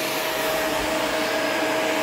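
A vacuum cleaner runs continuously at close range, a loud steady whooshing roar with a constant whine and no change in pitch or level, and no voices over it.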